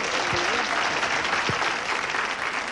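A studio audience at a television game show applauds steadily for a contestant, a dense, even wash of clapping that holds throughout.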